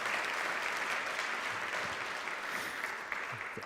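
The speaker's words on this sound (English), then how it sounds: "So please, round of applause." Audience at a monthly program claps in a steady, full round of applause that tapers slightly toward the end, with no speech over it.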